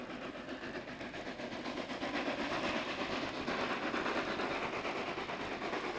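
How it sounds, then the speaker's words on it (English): LMS dock tank locomotive No. 47164 running on the Cromford and High Peak Railway, a steady, loud, close rumble of engine and rolling noise that holds without a break, with no talking. "they tried LMS dock tank number 47164 over the line"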